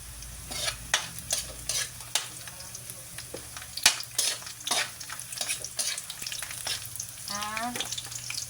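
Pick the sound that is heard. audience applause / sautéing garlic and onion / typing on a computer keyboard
sautéing garlic and onion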